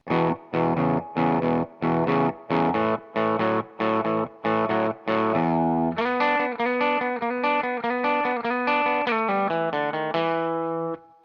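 Distorted electric guitar plays the opening bars of a blues song: a run of short, choppy chord stabs, then a walking sequence of sustained notes, with no voices.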